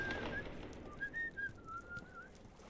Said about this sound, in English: I really don't like his whistling either.